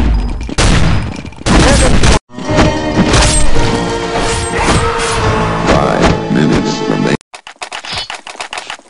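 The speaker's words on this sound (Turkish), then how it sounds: "Bomba atıyorum." Chaotic Counter-Strike 1.6 gunfire in a zombie escape mod match, a sharp burst then a dense stretch of rapid shots, crashes and explosive noise, cut off abruptly near the end with quieter scattered game sounds after.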